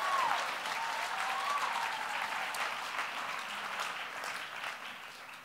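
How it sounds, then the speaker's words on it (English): Sustained applause from a poetry slam audience after a poet's scores, a dense even clatter of many hands holding steady throughout, with a brief whistle near the start. "Applaud the poet."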